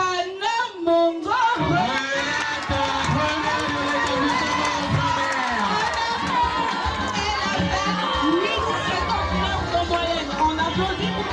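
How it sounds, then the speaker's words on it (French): A school awards-ceremony audience cheers and applauds for a top pupil, a loud burst of crowd noise with shouts and clapping filling the space, mixed with chatter and amplified voices. "On applaudit pour elle."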